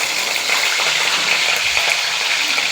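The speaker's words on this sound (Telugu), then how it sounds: "ఆయిల్ బాయిల్ అయిన తర్వాత పచ్చిమిరపకాయలు, ఉల్లిపాయలు వేసుకొని బాగా ఉడికేంత వరకు ఫ్రై చేయాలన్నమాట" Green chilies and onions frying in boiling oil for a cauliflower curry, a steady loud sizzle with a hissing texture that holds evenly throughout.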